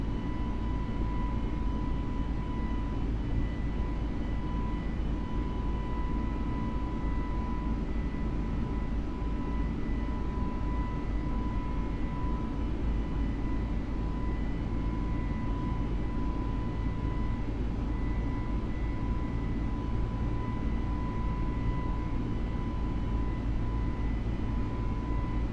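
Airbus A320neo-family airliner engines at climb thrust in a flight simulator, heard as a steady, loud broadband roar with a constant whine through the cabin, unbroken and without speech.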